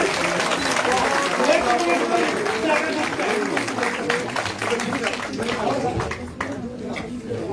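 Crowd applause welcoming new BJP members at a party joining event, a dense burst of clapping close by that stays strong for several seconds and thins near the end, with voices talking underneath.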